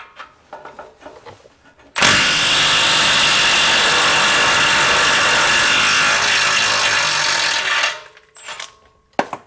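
A Milwaukee M12 stubby impact wrench loosens stubborn exhaust bolts on a 1991 Honda Accord, giving one loud, sustained burst of hammering that lasts about six seconds, with quiet workshop sounds before and after.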